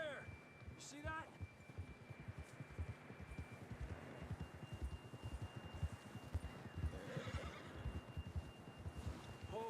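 A horse in the Red Dead Redemption 2 video game whinnies near the start and snorts among steady clip-clop hoofbeats, with wind and ambient game sounds behind it.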